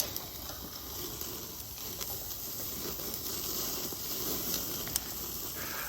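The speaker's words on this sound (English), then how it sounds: "It'll get us sizzling." Steak sizzles on an old 70-year-old Buffalo Forge charcoal grill with a hand-crank blower, a steady close hiss and crackle with occasional pops, no talk.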